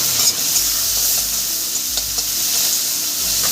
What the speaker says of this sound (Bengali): আমি একটু পেঁয়াজটা ভেজে নিচ্ছি